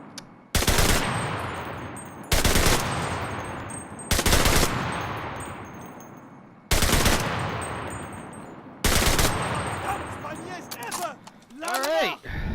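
Short heavy bursts of machine gun fire from a mounted MG nest in a video game, five loud separated volleys each ringing out into a decaying tail, with a mechanical rattle and clinks near the end.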